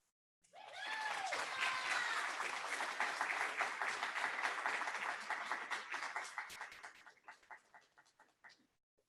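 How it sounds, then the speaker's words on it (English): A conference audience at a plenary session bursts into dense applause and some cheering to welcome a speaker. It swells quickly, holds for several seconds, then thins to scattered claps before stopping. "I don't know who was cheering up there, but I'm excited"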